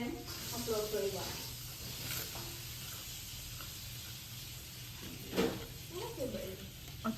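Fish sizzles and hisses in a hot frying pan, a steady low crackle running beneath people chatting nearby.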